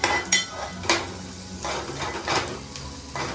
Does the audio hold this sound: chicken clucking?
no